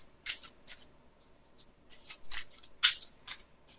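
Oracle cards being shuffled by hand, a series of quick crisp riffling bursts in irregular rhythm, close and fairly quiet with no talking.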